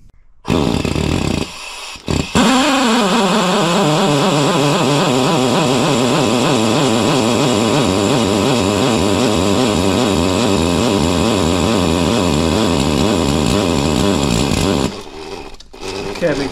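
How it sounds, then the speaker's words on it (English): Engine of a Factory Five Type 65 Coupe cranking over on the starter to pre-lube the oil system after an AFR185 head swap, a loud steady rhythmic churning for about twelve seconds, starting and stopping abruptly. "Cranking this for a while, maybe a minute total, but I can see oil coming out of every single rocker arm at the top"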